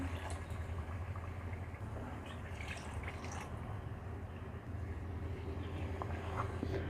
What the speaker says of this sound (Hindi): अब हम इसमें डाल देंगे 2 कप पानी।